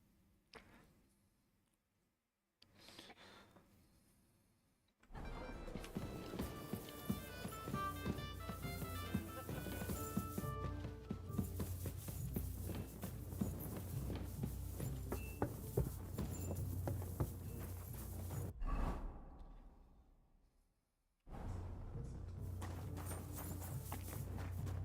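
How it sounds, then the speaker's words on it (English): Horse hooves clip-clop in the medieval role-playing game Kingdom Come: Deliverance II, a steady rhythmic walk of close hoofbeats over game music and ambience, with quiet gaps at the start and near the end. "that looks like a bloody expensive horse"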